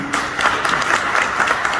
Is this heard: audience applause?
yes